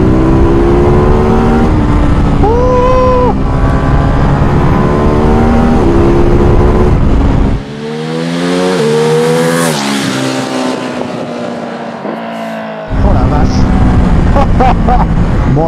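Ducati Monster 2021 motorcycle engine revving hard while riding, loud and close, with rising and falling pitch sweeps through gear shifts with a quickshifter and a brief dip in throttle midway; a rider talks over it at times.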